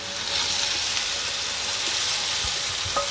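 Rice and wine sizzling in a hot pan while cooking mushroom risotto, a steady broadband hiss and crackle that holds evenly throughout, close and moderately loud with no talking.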